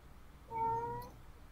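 A single cat meow, fairly faint and drawn out, rising and falling over about half a second against a quiet background.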